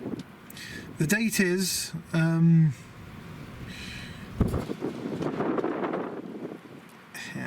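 Outdoor wind buffets a camera microphone beside a small camper van, giving rough, rumbling noise that swells in the second half while a person talks early on.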